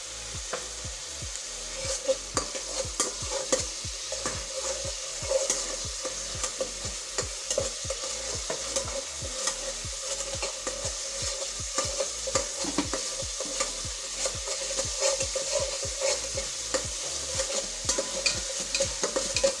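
Cinnamon sticks and a few cloves sizzling in hot fat for chicken korma, stirred with a spatula in a regular scraping rhythm over a constant frying hiss, close and steady throughout with no one speaking.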